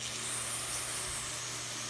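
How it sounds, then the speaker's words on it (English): A spray bottle cleaning a dirty engine part from a Troy-Bilt machine gives a steady, close hiss of mist lasting about two seconds, with no talking. "Now my hands got dirty, got it dirty, so I gotta spray it off again"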